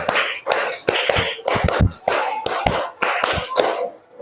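Children in an Indonesian classroom play a counting clapping game, clapping together in sharp, closely spaced bursts grouped in rhythmic sets, loud and near, with brief quiet gaps between the groups.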